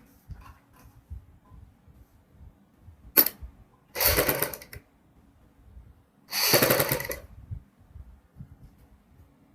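A sewing machine stitches a kurti neckline in two short bursts of rapid whirring, each about a second long, after a sharp click, with near silence in between.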